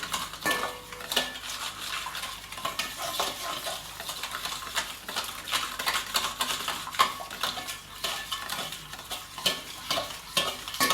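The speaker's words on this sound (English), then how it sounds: "I'm using a spoon to mix the sugars and the oil together" A spoon scrapes and clinks steadily against a bowl while mixing sugar and oil for banana bread, a busy, continuous rhythm of small taps and scrapes, close up with no talking.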